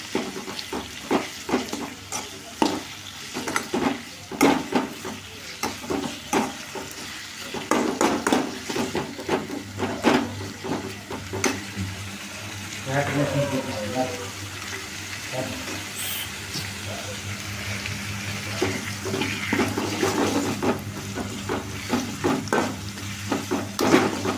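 Onions fry in a pan and are stirred with a utensil, giving a continuous sizzle under repeated sharp scrapes and clinks of metal against the pan, loud and close throughout, with no talk.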